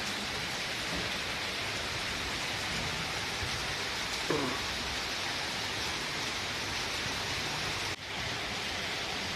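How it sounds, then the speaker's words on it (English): Heavy evening rain in Bangalore pours down in a steady, even hiss, heard from outside near a door, with a couple of faint knocks partway through and no voices. "So it's raining heavily and I'm just standing outside near the door and enjoying the rain."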